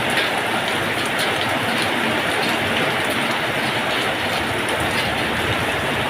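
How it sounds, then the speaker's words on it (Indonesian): Heavy rain pours down in a steady, dense roar during a storm with strong wind, loud and continuous throughout with no voices. "Hujannya semakin deras teman-teman."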